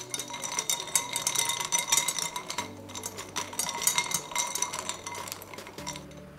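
A spoon clinks and rattles steadily against ice and glass while a vodka cocktail is stirred, a busy, close metallic jingle with a low hum underneath.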